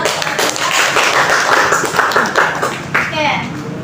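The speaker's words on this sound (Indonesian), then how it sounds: "Tepuk tangan." A class of students in a classroom claps together in a dense burst of applause, fairly loud and close, with children's voices mixed in under the clapping.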